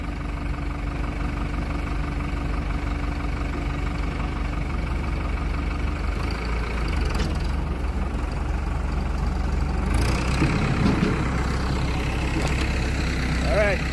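Tractor engine running on a farm in Salima, Malawi, a steady low droning idle with a constant rumble, close by, briefly rising mid-way with faint background noises.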